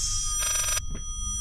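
Old telephone in the video game Layers of Fear rings with a bright, buzzing bell burst, then a short second chirp, loud and alone against quiet background hum.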